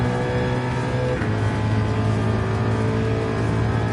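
In Gran Turismo 7, a race car engine downshifts, its loud, continuous drone stepping down in pitch partway through, with tyre and road noise underneath.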